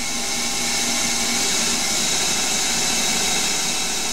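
A Chinese mini lathe takes a 0.5 mm finishing cut on steel with a carbide insert meant for aluminium, giving a steady, loud, broadband machining whir with no pauses throughout.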